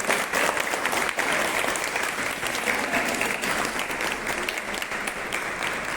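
A crowd gathered for a Tulsi Vivah celebration at Mother Muskan School, hosted with the Inner Wheel Club, gives a dense, steady round of applause that carries evenly at close range with no break.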